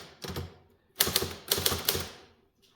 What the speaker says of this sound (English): when you use the interline lever, you move the carriage to the left margin